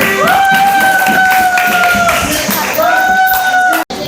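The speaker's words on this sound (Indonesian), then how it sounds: "Tepuk tangan buat temannya" High school students in a sociology class in Kuripan clap for a classmate, steady close applause lasting about four seconds with a sustained tone running beneath and a sudden cut near the end.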